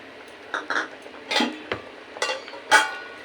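Pieces of cut raw mango dropped into simmering red lentil dal in a pot, a few short clinks and soft splashes of utensil against cookware, close and fairly quiet.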